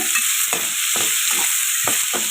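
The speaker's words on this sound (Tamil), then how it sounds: "நல்லா வெங்காயம் வதங்கட்டுங்க" Lightly salted onions sauté in a pan for karuvattu thokku, a dried fish dish, with a continuous bright sizzle broken by rhythmic stirring scrapes about every half second.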